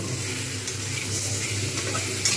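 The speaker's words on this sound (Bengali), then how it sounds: "এবার এগুলো কিন্তু আমি ভালোভাবে কষবো" Spices and chili powder stir-fried in a pan over medium-low heat for a Bengali fish roe fritter curry, a continuous close sizzle with soft scraping of the spatula throughout.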